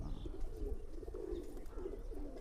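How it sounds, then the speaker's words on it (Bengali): Pigeons coo in low, rolling, repeated murmurs, close and steady, from running breeding pairs of flying pigeons offered for sale, with no talk. "অনেক ভালো কবুতর"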